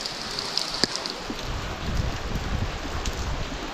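Steady rain falls in a hill village in the Pahadi mountains, a soft, even hiss of drops with no voices, filling the whole moment without pause.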